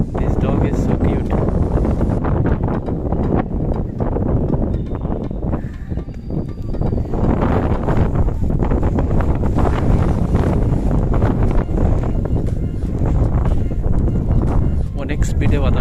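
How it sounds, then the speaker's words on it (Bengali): Strong wind during a snowstorm in Toronto roars and buffets the microphone nonstop, a loud, close, rumbling rush that stays steady throughout. "অনেক স্পিডে বাতাস বইতেছে।"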